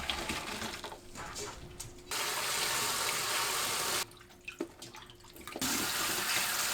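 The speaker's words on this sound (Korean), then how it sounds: "40초 후 바로 찬물에 헹굽니다" Blanched Brussels sprouts are rinsed under a cold kitchen tap, the water running in two loud, steady bursts split by a quieter gap filled with wet handling clatter.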